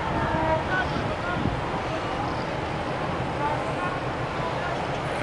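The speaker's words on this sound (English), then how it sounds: "And you can hear this boat leaving now." A large boat departs a port in the Bahamas, with steady broadband rushing of engine and water wash blended with wind noise on the microphone. The rumble holds constant and fairly loud throughout, and faint voices can be heard in the background.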